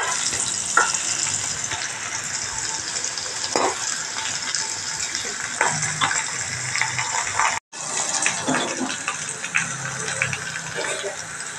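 Onions sizzle steadily in hot oil in a pan while cooking a seer fish curry, giving a dense, continuous frying hiss with occasional stirring clatter and a brief break partway through.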